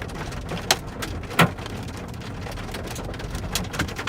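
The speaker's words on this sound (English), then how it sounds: "Yep, here's the hail again" Hail falls during a storm, a steady hiss of small impacts with a few sharper isolated cracks standing out as stones strike nearby.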